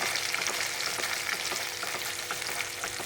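Ground masala paste frying in oil on lowered heat for a paneer dish, a close, steady crackling sizzle with light stirring scrapes throughout, no talking.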